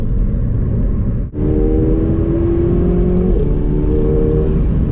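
A 2019 McLaren 720S, a 700-plus horsepower supercar, gives a loud, close engine note that holds steady with a brief dip before picking up under light throttle, with no talk over it.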